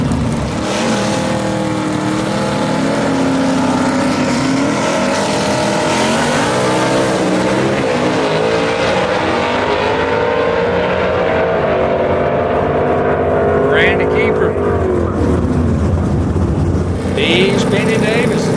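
Gasser drag race cars roar down the strip at Shadyside Dragway, engines loud and sustained throughout with rising, sweeping revs, under a track announcer's voice.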